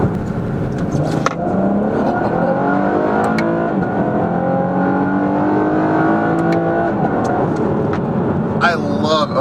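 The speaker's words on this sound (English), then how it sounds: "I freaking love how it snaps the exhaust when it shifts" A 2019 Chevrolet Camaro RS with a V6 revs hard under acceleration, loud and close, its exhaust snapping sharply on gear shifts while the engine note climbs and drops repeatedly.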